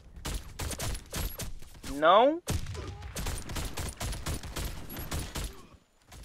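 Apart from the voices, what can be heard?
USAS-12 shotgun gunfire in the video game Warface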